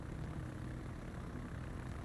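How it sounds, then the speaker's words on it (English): Torpedo bomber planes in World of Warships heading out toward a target, with a steady, low propeller drone that stays flat and muted throughout, heard alone with no talk. "The torp planes are now en route."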